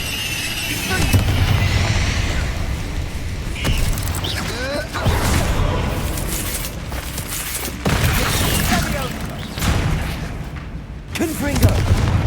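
Confringo blasting spell explosions in a Harry Potter video game: repeated booming blasts and crackling impacts over a constant dense layer of game effects and combat noise, loud and close.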